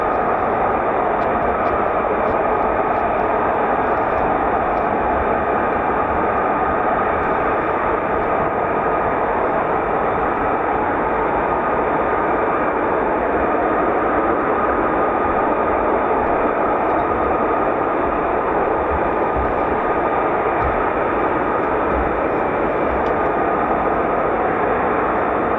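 F-35B stealth fighter jets taxiing, a loud, steady broadband engine roar that holds unbroken and dense for the whole stretch.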